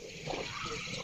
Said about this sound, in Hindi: इस तरीके से पानी को पूरे मुंह में फैलाएं और गरारे के साथ कुल्ली करें